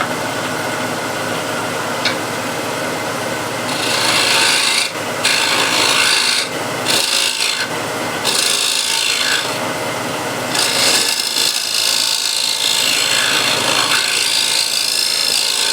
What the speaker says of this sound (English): I think I'm going to scrape it away, so it's a nice surface on the bottom as well